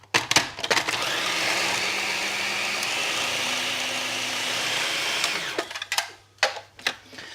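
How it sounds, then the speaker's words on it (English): A food processor blends a herb and egg stuffing, its motor whirring loud and steady for about five seconds before cutting off, followed by a few soft knocks and clatters. "So the food processor does all the work."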